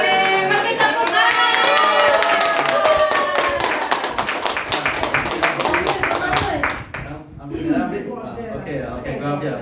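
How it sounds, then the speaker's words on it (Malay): An audience at a financial class claps hands in a dense burst of rapid clapping that tapers off after about seven seconds, with people talking over it. "Yeay, bagi tepuk tangan."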